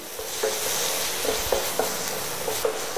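Dry spices are stirred with coconut milk in a hot pan for coconut masoor dal, giving a constant close sizzle and frying hiss. Soft scrapes of the spoon against the pan recur every half second or so.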